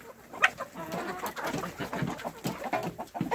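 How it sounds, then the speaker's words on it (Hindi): Desi country chickens peck at scattered grain, giving soft, close clucks and low murmuring calls in an irregular rhythm, with faint bird sounds around and no talking. "ये मैंने इधर दाने डाले हैं, अभी सभी इकट्ठे होकर खाएंगे इसको।"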